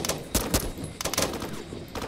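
Gunshots in the Roblox video game, a rapid series of sharp cracks and bursts over steady game background noise, loud and close, with no talk heard.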